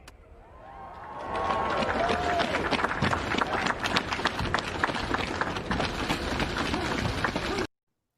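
A studio audience bursts into applause as Lady Gaga makes her entrance on a TV show, with a dense, loud wash of clapping and cheering that swells up within a second, holds steady, then cuts off abruptly.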